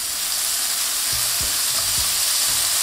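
Onions fry in a pan with seared beef for loaded fries, making a loud, steady sizzle with a few low scraping thuds from stirring, and no one speaks.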